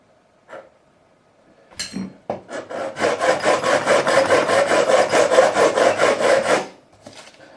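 A 300-grit diamond-coated fret file, milled flat, levels the frets on an Ibanez Iceman guitar, giving a steady, close rasping run of quick back-and-forth strokes for about four seconds after a few brief knocks.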